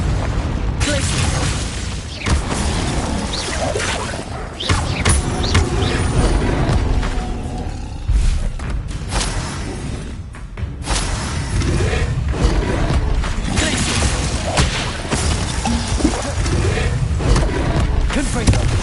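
Confringo explosive spells cast repeatedly in Hogwarts Legacy, giving a run of loud booming blasts and bursts over a rumbling game soundscape, with a voice calling out spell names throughout.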